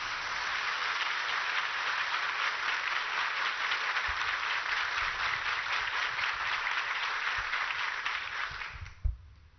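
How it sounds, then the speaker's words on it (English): Audience applause welcoming the Vice Chief of Naval Staff at a military school platinum jubilee ceremony in Bengaluru, a sustained, even wash of clapping that fades out near the end. "Please join us to welcome Vice Chief of Naval Staff for the opening address with a huge round of applause."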